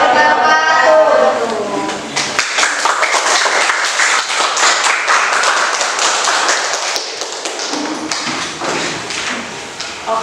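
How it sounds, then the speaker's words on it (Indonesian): Classroom audience clapping after a group presentation, a burst of scattered hand claps of moderate loudness that thins out toward the end, with a voice speaking at the start. "Kita kasih tepuk tangan."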